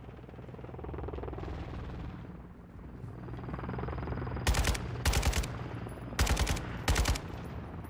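An enemy helicopter in Call of Duty Modern Warfare II drones with a low rotor hum, then four loud bursts of automatic gunfire cut in over it near the end.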